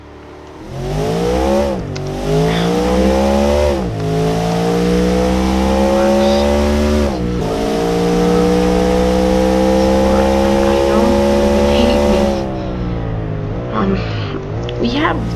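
A V8 car engine in the Automation game revs up and down through several rising and falling sweeps, loud and close, with short breaks between surges and a deep, throaty tone.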